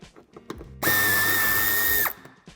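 A power tool spins out Torx 25 screws holding the bumper of a 2014–2017 Škoda Octavia Scout III at the wheel arch, one steady high whine about a second long between quieter handling noises.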